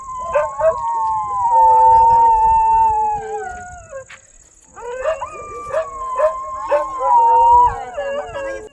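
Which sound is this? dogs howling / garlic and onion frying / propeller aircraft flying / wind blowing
dogs howling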